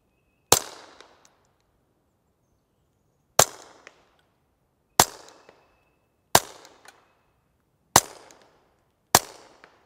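Six suppressed pistol shots from a Smith & Wesson Victory fitted with a Gemtech Mist suppressor, each a sharp muffled crack with a short decaying tail, fired slowly at irregular intervals outdoors with silence between.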